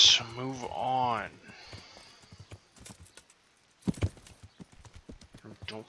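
Horse hooves clip-clopping in the video game Kingdom Come: Deliverance, a steady patter of light hoof beats with a loud voice-like sound near the start and a few sharper knocks near the end.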